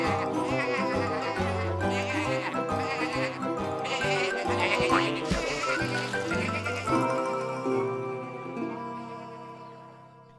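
Sheep bleat repeatedly in the French animated series Tractor Tom, their wavering cries layered over a loud, busy musical score that continues throughout.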